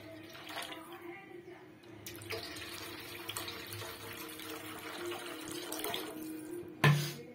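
Water poured into a pot of Odia potato and mustard curry on the stove, a steady watery wash running for several seconds with a louder splash near the end.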